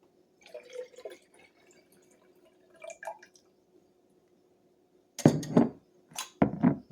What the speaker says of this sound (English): I guess I'll put water in it now.